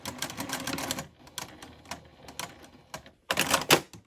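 A sewing machine runs stitches along the edge of fabric for a Christmas stocking, giving bursts of rapid mechanical clatter that stop briefly midway and then start up loudly again near the end.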